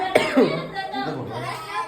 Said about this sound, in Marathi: मला खोकला